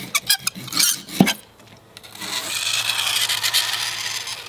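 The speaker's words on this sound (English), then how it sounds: "I'm gonna try to cut it with the knife." A knife is pressed into a block of dry ice, giving a sharp metallic squeal and clattering scrapes up close, followed by a long, loud hiss.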